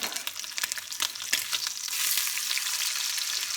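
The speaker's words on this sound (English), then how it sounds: "you gotta sear them, okay? Seal the juices." A rack of lamb loin, tied with butcher's twine and plastic wrap, sears in a hot pan with a close, steady sizzle and crackle that grows denser and louder partway through.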